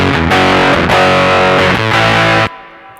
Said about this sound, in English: it's too overdriven, it's kind of flubbing out